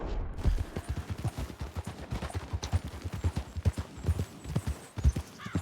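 Horses' hooves clip-clopping through snow in the Red Dead Redemption 2 video game, a steady walking rhythm of close, distinct thuds continuing throughout without speech.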